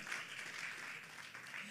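Congregation in a church applauding steadily throughout, a dense wash of clapping at moderate volume with no pauses.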